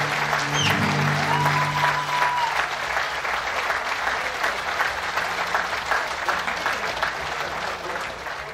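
An audience claps at a cantoria singing event in Hilmar, California, with dense, steady applause from a crowd throughout and brief tonal sounds near the start before the clapping continues alone.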